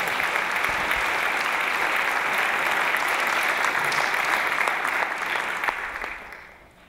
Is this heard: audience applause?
yes